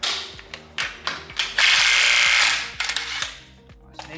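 A ratchet or power tool works loose the 30mm hub nut on a VW T5 Transporter 1.9 TDI, a series of close, loud mechanical ratcheting clicks followed by a sustained whirring burst and then more clicks.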